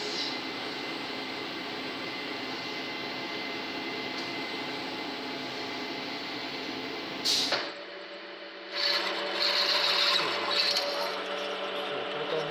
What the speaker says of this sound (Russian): Высверлим их сверлом 9 мм.